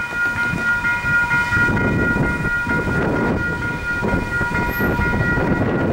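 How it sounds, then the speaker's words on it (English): A train pulls into the Linden level crossing on Collins Ave, its steady rumble loud and close while crossing bells ring continuously over it. "this train should stop at Linden Station because it's going all stops"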